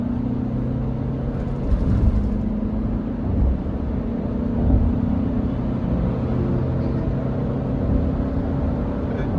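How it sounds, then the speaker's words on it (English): A 2026 Kia Tasman pickup accelerates from 60 km/h, a steady low engine rumble and drone heard from inside the cab, fairly loud and continuous with slight swells, with no talking. "Let's see how responsive this engine is."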